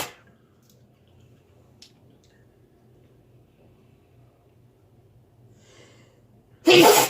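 A single sharp sneeze bursts out loud and close at the end, following several seconds of quiet room tone with faint scattered movement.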